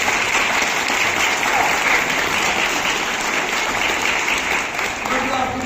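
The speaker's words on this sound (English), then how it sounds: "Round of applause." Audience applause after a fencing duel demonstration at the Royal Armouries Museum, a steady wash of many hands clapping throughout, with faint voices underneath.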